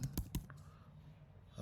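A few quick keystrokes on a computer keyboard while writing code, three or four faint close clicks at the start followed by quiet.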